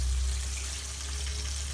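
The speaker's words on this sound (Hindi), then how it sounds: "ठंडे पानी में डिप करेंगे" Food dipped into cold water while making a KFC-style Zinger burger at home, a soft continuous watery swish and faint splashing close by, with no talk.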